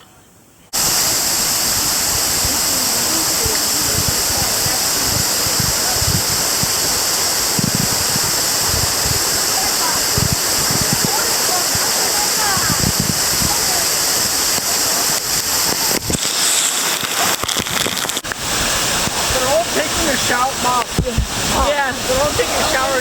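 Smith Falls, a convex waterfall on the Niobrara River in Nebraska, roars as a steady broadband rush of falling water, close and continuous, with a brief shift in the texture partway through and faint voices at times.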